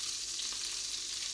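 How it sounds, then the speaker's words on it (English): A mini flatbread sizzles in a hot pan, a soft, steady crackling hiss that stays constant through the brief moment with no voices. "can you hear the sizzle?"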